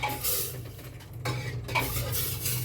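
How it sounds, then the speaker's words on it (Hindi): Hot tempering (chhaunk) poured into boiled lentil dal cooked with turmeric, salt and chilli, giving a steady close sizzle with some stirring and clinking of the pot, loud and continuous without talk. "और अब मैंने लगा दिया इसमें छौंक दाल में।"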